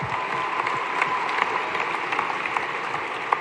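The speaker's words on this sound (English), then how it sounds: "Can we give them a round of applause for all the other candidates who have run?" Rally crowd at a Bernie 2020 caucus concert in Cedar Rapids clapping for the other candidates, a steady dense wash of applause from a large audience with a few sharper claps standing out.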